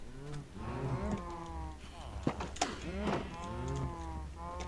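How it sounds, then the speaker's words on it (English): A cow in a blocky video game village moos several times in a row, each call drawn out and clear, with a couple of sharp clicks mixed in between. "I'm going to need to kill Anne the cow."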